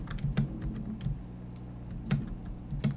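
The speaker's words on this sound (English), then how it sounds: "I need to click clack on my keyboard less." Computer keyboard keys click and clack in irregular, light taps at close range during a Roblox livestream, soft against a low background hum.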